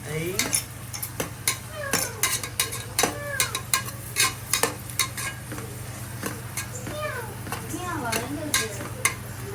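Sliced onions sauté in a pan for Tamil Nadu style chicken dum biryani, with a soft steady sizzle and repeated sharp scrapes and clinks of a spoon stirring against the metal. Faint voices sound in the background.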